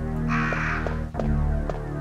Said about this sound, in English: I'm surprised the crows haven't flown after us, because usually they do.